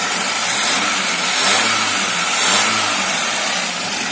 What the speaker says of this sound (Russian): Звук такой вот шипящий звук, когда есть вот в карбюраторе